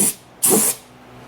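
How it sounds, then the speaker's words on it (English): Two short bursts of aerosol-like spray hissing as WoolWax undercoating is sprayed on a vehicle underside, the second longer, close by with quiet gaps between. "I'm just going to spray this stuff on everything."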